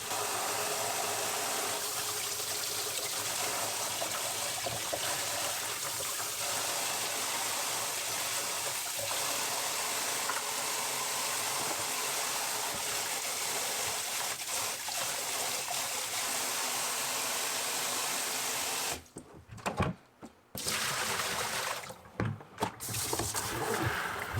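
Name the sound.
rinsing aquarium items with warm water at a sink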